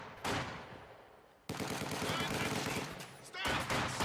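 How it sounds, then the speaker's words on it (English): Gunfire in a World War II-style strategy video game, with sharp bursts of rifle and machine-gun fire rattling in loud clusters while voices call out over the shooting. "Ivan is shooting at us!"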